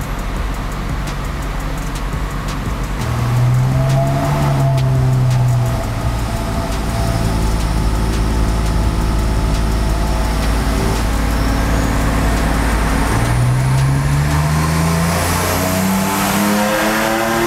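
A car engine revs hard on a dyno test run without water-methanol injection, climbing in pitch through sustained loud pulls with a brief dip and a second rising sweep, no talk over it.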